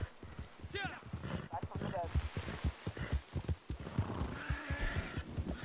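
Video game horse neighing and walking, whinny calls heard amid hoof steps, mixed under steady talk from a player throughout.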